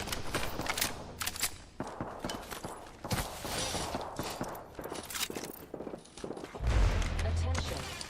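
Light machine gun fire in a first-person shooter video game, bursts of rapid loud shots and impacts mixed with footsteps and game sounds, with players talking over the action.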